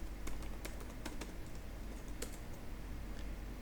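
Light, rapid clicks of computer keyboard typing while code is entered, steady irregular keystrokes close up over a low background hum, with no talking.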